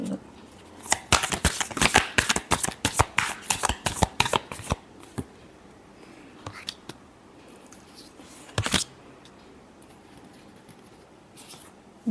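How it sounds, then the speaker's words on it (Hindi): Tarot cards are shuffled by hand in quick, crisp riffling bursts for the first few seconds, then a few scattered slaps and flicks follow with quieter pauses between, close and clear with no talking. "last shuffle 2 cards each they please"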